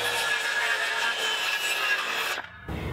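A saw cuts steadily through the wooden frame of a horseshoe bench to shorten it, a continuous loud rasping close by that stops abruptly near the end.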